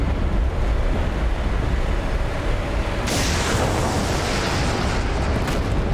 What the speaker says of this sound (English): we've got missiles going through. What, from this point of view, still blasting missiles off.